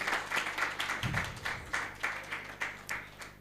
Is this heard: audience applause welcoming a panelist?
yes